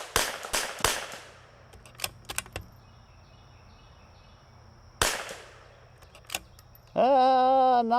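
A CZ 455 rifle fires sharp, close shots at a target: a quick volley of cracks, a couple of lighter clicks, then another crack after a pause, ending in a steady electronic tone.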